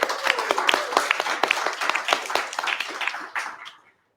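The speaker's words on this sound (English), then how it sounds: "Let's give a round of applause for Dream Bank Madison." Audience applause at a nonprofit social media breakfast event in Madison, a steady burst of many hands clapping that fades out near the end.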